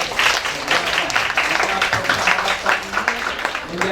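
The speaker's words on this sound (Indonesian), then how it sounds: "Kami tepuk tangan dulu untuk mahasiswa UiTM." Applause from an audience at a university cultural night and closing ceremony for international inbound students at UiTM Melaka, a dense, steady patter of clapping that holds at moderate loudness for the whole stretch.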